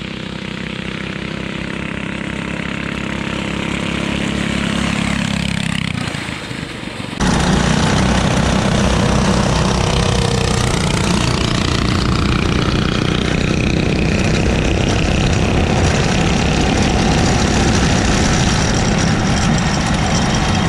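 Two go-karts with Predator engines, one fitted with a performance kit, drag race side by side: a steady loud droning engine roar that dips briefly, then surges louder and rougher as both throttles open, continuing at full revs with no talk.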